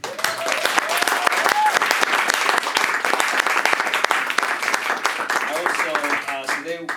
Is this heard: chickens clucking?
no